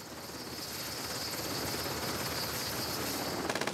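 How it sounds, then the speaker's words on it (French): A rescue helicopter arriving and setting down during an attack, its rotor roar loud and steady throughout with a rhythmic blade chop rising toward the end, no voices. "Une demi-heure après le début de l'attaque, l'hélicoptère de secours se pose enfin."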